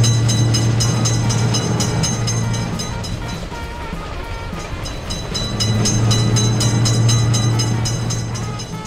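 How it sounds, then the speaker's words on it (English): A train rumbles past loudly in an Indian railway crossing video game, a steady mechanical roar and hum, swelling, dipping midway, then building again, sounding synthetic. "Attention, train is coming. Train is coming."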